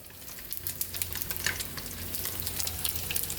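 Fish fries in a hot pan, giving a continuous crackling sizzle with bursts of louder pops and spits that build slightly over a few seconds. No one speaks.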